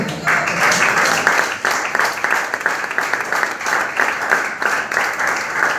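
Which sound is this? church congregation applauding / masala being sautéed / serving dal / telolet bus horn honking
church congregation applauding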